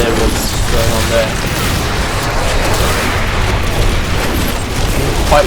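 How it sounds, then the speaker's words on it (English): Chained corpse explosions in Diablo III, played as a Necromancer, make a dense, loud, continuous rumble of overlapping booms and bursts that fills the whole stretch. "We managed to get a good corpse explosion chain going off while Army of there was going on there"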